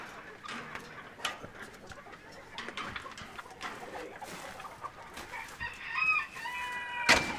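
Chickens clucking and calling inside a barn that also houses pigeons, a busy scatter of close bird sounds, with a sharper squawk near the end.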